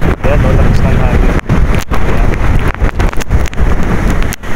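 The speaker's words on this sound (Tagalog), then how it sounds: "Lakas pati ng hangin." Strong outdoor wind near rice farm fields batters the microphone in loud, continuous gusts, with brief dropouts between rough blasts of noise.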